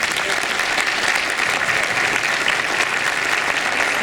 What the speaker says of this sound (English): So can I get please a round of applause for Team Ruby?